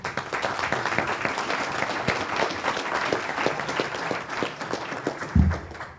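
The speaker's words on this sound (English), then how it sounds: "let us all applaud the answers they gave to the questions" Audience applause at a voter education and candidate forum held at CSUDH, steady dense clapping filling the room throughout, with a brief thump near the end.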